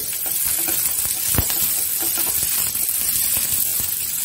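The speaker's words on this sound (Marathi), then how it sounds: "लाल रंग येईपर्यंत चांगलं परतून घेते।" Cinnamon, star anise, cardamom and coriander seeds dry-roast in a pan for a Malvani stuffed-eggplant masala, producing a light crackling hiss with rattling seeds and intermittent scrapes and taps from stirring, close and fairly loud.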